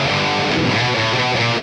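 An electric guitar plays through a Synergy MESA MKII-inspired distortion module set for a traditional yet modern distortion tone: one loud, dense, sustained chord that cuts off abruptly at the end.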